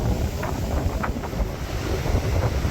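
Wind gusts and waves splashing against the hull of a sailing boat under way, a steady rushing roar with rough microphone buffeting and occasional brighter slaps of water, close and continuous.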